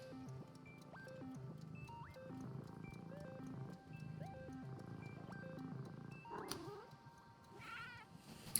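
Gentle in-game cat music from the video game Wanderstop, a steady melodic tune of plucked and chiming notes playing continuously, with a brief clatter near the end.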